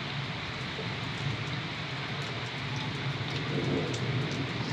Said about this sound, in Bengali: বৃষ্টি পড়ে, বৃষ্টির জল উপরে আকাশে দেখুন ডাক, ভয়াবহ অবস্থা, তুফানের ভাব